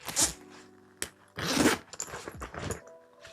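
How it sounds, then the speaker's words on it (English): A zipper on a large leathery makeup bag with a silky fabric lining is pulled open in several quick, close, raspy strokes with short pauses between them. "Got a zipper."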